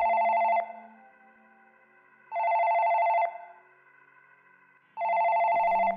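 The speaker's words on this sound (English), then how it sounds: "Why'd the phone ring?" Telephone in the video game Night Freak ringing in three loud electronic bursts, each about a second long and separated by short pauses, with a faint low hum between rings.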